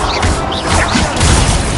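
Incendio and Levioso spells cast in Hogwarts Legacy during a duelling tournament, producing loud overlapping crashing and whooshing magical impacts in a dense, continuous burst.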